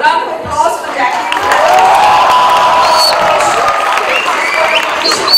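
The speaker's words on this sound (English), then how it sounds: "Round of applause for Jacqueline" Audience at a Mumbai University felicitation event applauds and cheers for actress Jacqueline Fernandes, a loud, sustained wash of clapping and crowd noise with whoops running throughout.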